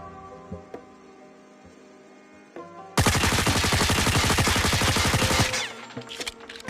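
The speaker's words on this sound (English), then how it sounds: "This secondary weapon is a fully automatic pistol. Today we will test its recoil, damage, movement speed, and strafing speed. We'll try its recoil without controlling it." The LCAR-9 fully automatic pistol in COD Mobile fires one loud, unbroken burst of rapid shots lasting about two and a half seconds. Quieter game ambience and faint clicks come before and after it.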